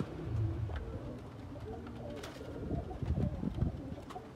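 Young highflying pigeons of mixed breeds, including Teddy, Firozpuri, golden and Kamagar birds, coo softly and repeatedly in a loft, with low throaty murmurs overlapping and rising in a cluster near the end.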